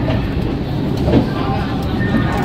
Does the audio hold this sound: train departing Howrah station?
yes